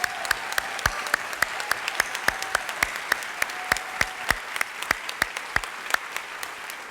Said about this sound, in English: Let's give one more round of applause to all these wonderful sophomores.